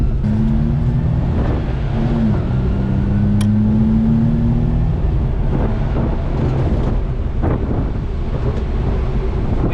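Suzuki Carry kei truck accelerating hard through first and second gear: a loud engine drone that rises in pitch under heavy wind buffeting on the microphone, no talk.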